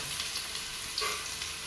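Chopped onions sizzle steadily in hot oil in a pan for chicken Manchurian, a soft continuous frying hiss with no voices.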